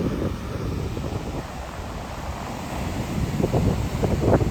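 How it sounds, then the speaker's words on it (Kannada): Strong sea waves roll in at Maravanthe beach on the Karnataka coast. Steady, loud broadband surf and wind noise fill the whole stretch, swelling toward the end with no voices. "ಕಡಲ್ ನೆಟದ ಮಸ್ತ್ ಜೋರುಂಡು"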